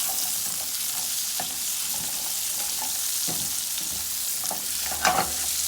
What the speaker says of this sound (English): So I'm gonna mix our butter in.